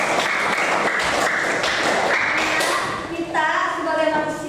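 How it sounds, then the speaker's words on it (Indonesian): Students in a classroom economics lesson clap together, a brisk patter of hand claps with some thumps and shuffling, followed by a voice speaking at the end. "Tepuk tangan."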